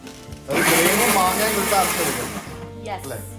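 A blender whirs loudly as it blends mango with fresh cream, a steady motor roar starting after a short pause and running for about two seconds before winding down.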